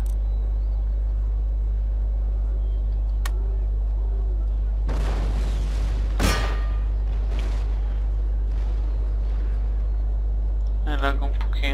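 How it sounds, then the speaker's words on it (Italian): Artillery cannons in Empire: Total War fire in a few booming blasts over a constant low drone. One sharp shot stands out near the middle, with scattered rumbles around it. "adesso sto ordinando a mia artiglieria di attaccare le truppe del generale nemico"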